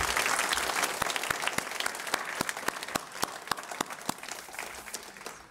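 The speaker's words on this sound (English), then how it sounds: "how about another round of applause for Noel?" A dinner audience in a library applauds for Noel after podium remarks: sustained, fairly even applause with distinct individual claps standing out, continuing for several seconds before easing slightly.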